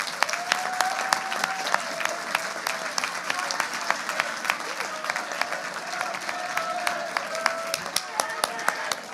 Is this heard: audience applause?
yes